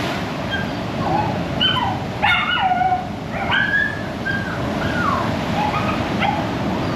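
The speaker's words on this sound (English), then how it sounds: "You can hear the sea lions there." Sea lions bark and yelp over steady surf, a string of short, hoarse calls at moderate distance, some rising and falling, spread across the whole stretch without speech.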